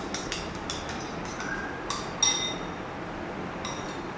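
A utensil mixes chili sauce into a burger patty mixture in a bowl, giving sparse, irregular clinks and taps against the bowl. The sounds are close, over a soft background hiss.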